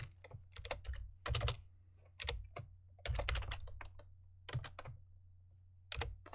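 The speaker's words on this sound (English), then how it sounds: "If I can type correctly here." Typing on a computer keyboard while writing JavaScript code, heard as bursts of clicky keystrokes separated by short pauses, fairly close and clear with no talking.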